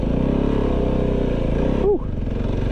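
A Kove 450 Rally motorcycle engine runs and revs close by on sand with stock tires, a throaty pulsing drone that shifts pitch near the end as the bike pulls away.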